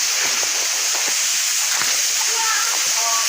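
Waterfall in a nature spot, a loud steady rush of falling water filling the whole clip with splashing, as people talk over it.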